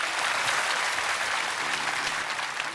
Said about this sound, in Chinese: 再一次把掌声送给他们